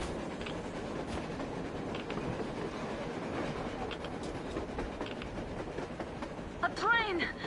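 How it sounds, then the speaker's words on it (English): A train rolling past on the surface in the Metro Exodus video game, a steady dense rumble and clatter throughout with a brief squealing whine near the end. "A train! A damn train on the surface!"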